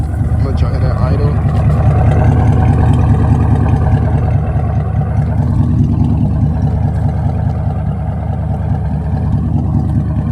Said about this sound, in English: gonna let y'all guys hear the exhaust.